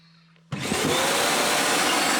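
A robot vacuum self-empties into its charging dock: a quiet hum, then a sudden loud, steady roaring whoosh of suction that holds at full strength.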